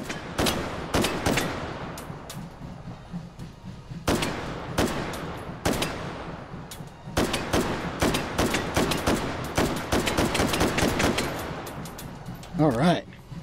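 Repeated bursts of gunfire from a pistol-like weapon in the VR shooter Hot Dogs, Horseshoes & Hand Grenades, sharp close shots in irregular clusters with short pauses, ending in a brief rising mechanical whir.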